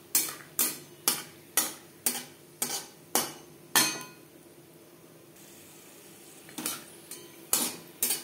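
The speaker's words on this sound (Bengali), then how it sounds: "চিনেবাদাম আমার ড্রাই রোস্ট করা রয়েছে, তবু আরেকবার একটু হালকা করে ভেজে নেব" A metal spatula scrapes and taps against a wok at a brisk regular pace while dry-roasted peanuts fry again in oil, with a short quiet pause before the clinking stirring resumes.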